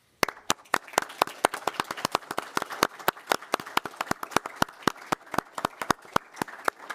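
A small council meeting audience claps for an honored police officer: a thin, steady run of individual hand claps at a quick even pace, moderately near, with no voices over it.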